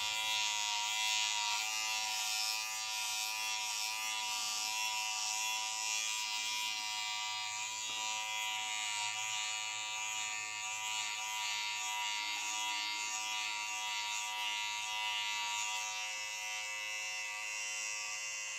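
A 2021 King C Gillette Style Master electric shaver cutting through facial hair along the jawline, a steady close buzzing hum with a bright high whine that holds constant throughout, with no talking.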